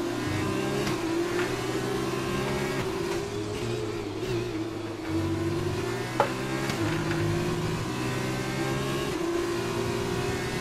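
Formula 2 race car engine from the F1 2020 game at Zandvoort, holding a steady high-pitched drone with shifting harmonics and brief gear-change dips, loud and continuous throughout with no talk.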